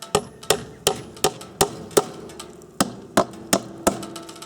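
Hammer blows on wood while old nails are worked out of a fence gate, about a dozen sharp evenly spaced strikes, close and loud with a short ring after each.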